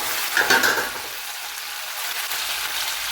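Tomatoes with salt and turmeric frying in a pan for a fish sambal, giving a steady, close, loud sizzle with a brief stirring rustle near the start, continuous and without talk.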